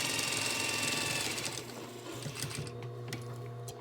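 A sewing machine stitches a fabric face mask in a steady, continuous mechanical whir with a rapid needle chatter, close and fairly even, slightly easing toward the end.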